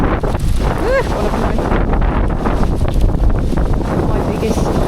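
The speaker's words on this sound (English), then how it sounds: "This is so windy today." Strong wind buffets the microphone on a seaside walk in Salou, a continuous loud rumbling roar with gusty swells throughout and a faint voice briefly in the mix.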